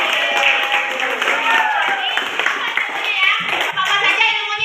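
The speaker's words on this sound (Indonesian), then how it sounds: "Beri tepuk tangan untuk Tasya dan Febi." A classroom of children claps for two students, a dense burst of close hand claps lasting several seconds, with young voices mixed in.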